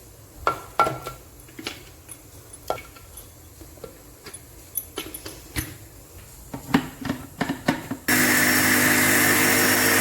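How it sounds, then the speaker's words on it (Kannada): A mixer grinder grinds roasted chillies with water in a home kitchen. Scattered clatter and knocks come first, then the motor bursts into a loud, steady whirring roar for the last couple of seconds. "ಈಗ ಇದೇ ಮಿಕ್ಸಿಗೆ ಈ ಮೆಣಸಿನಕಾಯಿ ಏನು ರೋಸ್ಟ್ ಮಾಡಿದ್ದೀವ ಅದನ್ನು ಹಾಕ್ಕೊಳ್ಳೋಣ"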